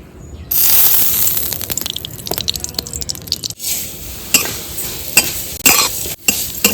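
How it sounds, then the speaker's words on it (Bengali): Vermicelli fries in white oil with a crackling sizzle that starts abruptly, joined by scraping stirs and a few sharp clicks of a utensil against the pan. "সিমাইটা একটু সাদা তেলে ভেজে নিচ্ছি"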